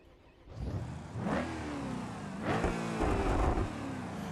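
In the BeamNG driving game, a car labeled Old Glory revs and accelerates hard to make a pass, its mid-pitched engine rising through two surging pulls at close range.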